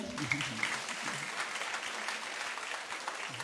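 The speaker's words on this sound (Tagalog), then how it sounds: "Ang hina naman ng palakpak natin sa kanila." Applause from a congregation at a church service for Bible School students, a moderate, steady patter of clapping with a few voices faintly underneath.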